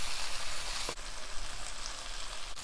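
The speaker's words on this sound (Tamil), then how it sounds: "சுண்டக்காவை நல்லா இந்த ஆயில்லையே வதக்கிடலாம்." Turkey berries sauté in hot oil for a South Indian gravy, giving a steady close-up sizzle and crackle throughout, with a couple of faint stirring clicks and no voices.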